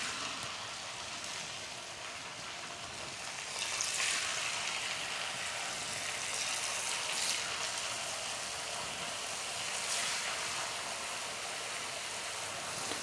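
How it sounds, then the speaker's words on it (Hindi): Papdi, a rolled flour-free snack, fries in hot oil in a pan, giving a continuous bubbling sizzle that swells louder after a few seconds and holds steady, with no speech. "तेल गरम हो गया है, इसमें हम पापड़ी"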